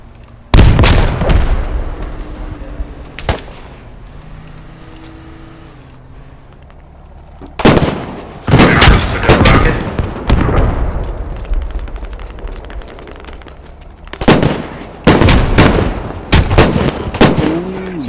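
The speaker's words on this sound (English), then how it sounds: "Dead guy nade coming over the wall." A grenade blast and gunfire in the military shooter Squad: loud, sharp explosive cracks and rifle shots burst out in clusters separated by quieter stretches, some shots close and booming, others more distant, with a low rumble between them.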